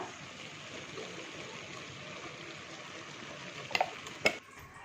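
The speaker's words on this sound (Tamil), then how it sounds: "அடுத்ததா நம்ம அரைச்சி வச்சிருக்கிற இந்த தேங்காய் விழுதை போட்டுக்கலாம்" Ground coconut masala paste of coconut, coriander, garlic, ginger, tomato and Kashmiri chilli is stirred into a pan for channa soya masala, a steady close sizzle with a couple of sharp clanks near the end.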